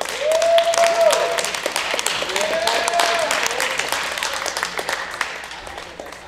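An audience claps and cheers for a university Capoeira club after its demonstration, a dense burst of applause that tapers gradually, with an amplified announcer's voice and a short whistle tone over it.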